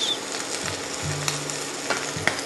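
Shepherd's pie filling with tomato paste sizzles steadily in a pan, a continuous close frying hiss with faint stirring scrapes and a couple of small pops, no voices.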